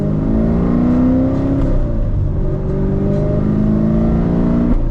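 Manual Corvette engine held under throttle from inside the car, a loud steady drone with rising and falling tones as the revs shift, with no voices heard.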